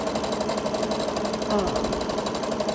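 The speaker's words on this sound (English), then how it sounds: "you should sew a little bit away from the side" A sewing machine stitches the side seam of a bikini, running in a steady, continuous rapid rhythm at close range, loud and unbroken with no talking.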